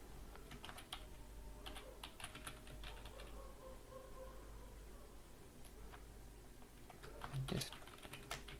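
Quick bursts of clicking keystrokes on a computer keyboard, faint and close, with irregular pauses between groups of taps and a louder clack near the end.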